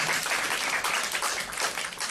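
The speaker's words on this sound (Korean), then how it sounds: "우리 한번 박수로 한번 격려할까요?" A church congregation claps during a Sunday morning worship service, a brief, even burst of many hands applauding together at moderate volume.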